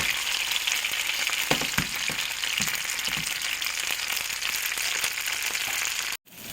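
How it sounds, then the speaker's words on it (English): Rava-coated sardines fry in a pan over a slow to medium flame, giving a steady close sizzle with scattered pops and crackles, cut briefly near the end. "Then the second batch I'm going to fry with the rava"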